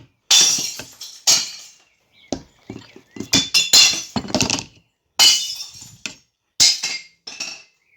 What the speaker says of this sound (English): I just love the sound of the smashing.